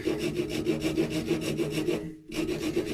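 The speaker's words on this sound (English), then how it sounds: "just with a round rasp" Round rasp filing a small oak ashtray, a steady run of close, rhythmic rough strokes that stop briefly near the end and then resume.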